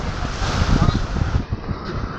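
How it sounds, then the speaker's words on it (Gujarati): Heavy surf and strong wind batter the shore of a stormy sea, a loud, close, churning roar of breaking waves mixed with gusts buffeting the microphone. "દરિયામાં બહુ તોફાન છે ભાઈ જો મોટા મોટા લોટ આવે છે પાણી ઉડાડે"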